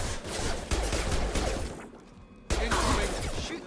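Sustained automatic gunfire in Mass Effect 2 Legendary Edition, a dense rattling burst that cuts out briefly and then resumes just as loud, with no voices.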